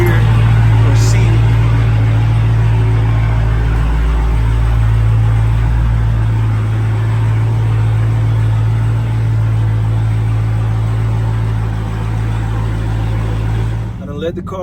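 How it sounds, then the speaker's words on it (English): Dodge Hellcat idling in warm weather, a steady low engine rumble with a constant droning hum that holds evenly close by, ending with a short rattling clatter. "Let the car idle up about 3 minutes."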